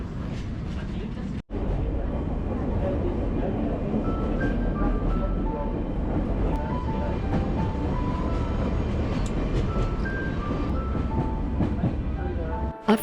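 Steady rumble of the Sagano Romantic Train sightseeing train in motion near Kyoto, Japan, with faint rhythmic clatter and brief high squeals over a constant low roar; voices murmur faintly in the background.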